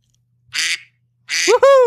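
A duck quack sound effect plays as two loud, close, nasal quacking bursts separated by a brief silence, the second running straight into a higher, voiced honk.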